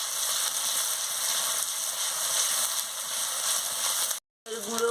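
Ginger and garlic paste frying with spices in a pan, a steady broadband sizzle throughout, close and fairly loud, briefly cut out near the end before resuming.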